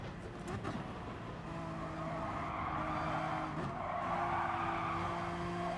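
Rear tyres squealing and skidding in GT Sport, the NSX-era GT racing game, over a steady engine drone, with sustained tonal screech lines running through the whole stretch at moderate, even loudness.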